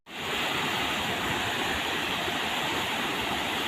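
The fast-flowing Laoti river rushes loudly and steadily, a continuous close roar of water where Boro people fish with nets.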